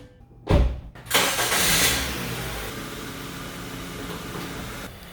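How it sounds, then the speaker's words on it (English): A 2012 Honda Civic EX sedan cranks briefly, fires up with a loud rev, then settles into a steady, fairly close idle with no talking. "turn on the car for about 10 minutes. Let it idle a bit."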